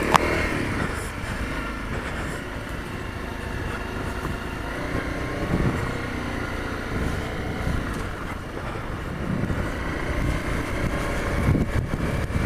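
Honda CRF250L motorcycle ridden off road with the clutch constantly feathered, a continuous rough engine drone that rises and falls under wind buffeting, close and loud.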